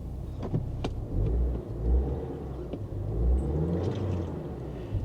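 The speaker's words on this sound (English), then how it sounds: "It runs rough and then it clears up, and then it runs rough and then it clears up" An old Square Body Chevy truck engine idles roughly up close, a low uneven rumble that surges and settles in irregular swells, with a few faint clicks and rattles over it.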